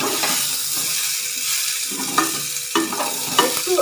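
Mango pickle frying in hot oil, a close, continuous sizzle with scraping stir strokes breaking through at intervals.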